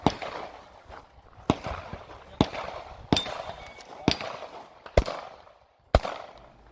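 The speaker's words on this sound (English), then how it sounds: "then engage the last pistol target with 5 rounds" Pistol shots fired at a target during a 2-gun shooting match: about seven sharp, loud bangs at uneven intervals, each with a short echoing tail over outdoor background noise.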